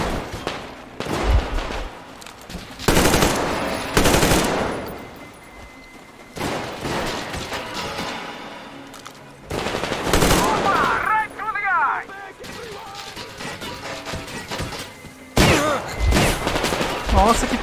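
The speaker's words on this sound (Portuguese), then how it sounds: "Não tô entendendo de onde tá vindo os tiros." Gunfire rattles through a tense firefight in Metro Exodus Enhanced Edition aboard an enemy-filled tugboat, with loud bursts and scattered single shots from near and far amid game effects.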